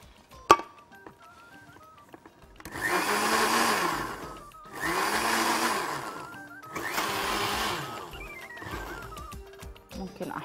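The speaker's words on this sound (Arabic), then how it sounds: "اضرب ده كله بقى في الخلاط" A kitchen blender whirs through three long bursts, loud and close, with a rising and falling motor pitch, as an ice cream and rose syrup drink is mixed. A voice talks faintly around the bursts.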